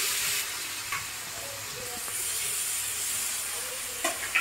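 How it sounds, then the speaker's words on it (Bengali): Thickly cut onions frying in a little oil, a steady close sizzling hiss throughout with a few faint stirring clicks near the end. "এবার পেঁয়াজটাকে আমি ভালো করে ভেজে নেব।"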